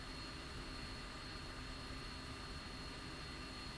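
A jet aircraft taxis after landing in the Falcon 4 BMS flight simulator. A steady broadband engine roar with a faint whine holds constant and moderately quiet throughout, with no voices.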